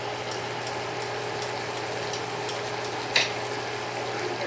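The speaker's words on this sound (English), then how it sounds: "we got our chicken sizzling here" Steady, even sizzling of chicken frying in a pan, a continuous crackling hiss with a faint brief tap partway through.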